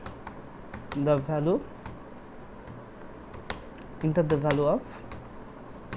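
Someone types on a computer keyboard while writing a C program, producing a steady scatter of close, crisp key clicks and taps. Someone speaks over the typing in two short bursts, in a mix of Bengali and English.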